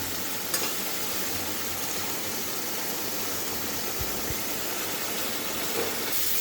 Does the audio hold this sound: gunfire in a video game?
no